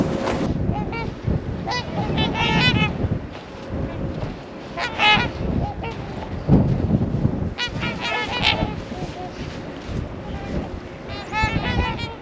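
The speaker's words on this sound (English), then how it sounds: "go see some swans" Swans honking outdoors in a snowy park in winter, with repeated nasal calls coming in bursts over wind buffeting the microphone and people talking nearby.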